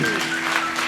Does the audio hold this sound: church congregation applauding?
yes